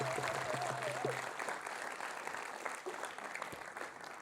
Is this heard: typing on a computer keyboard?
no